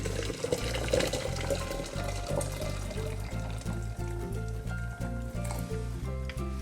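More boiled water streams steadily into a jar for kombucha tea, a continuous close splashing pour lasting several seconds with a faint rising fill tone and no talking.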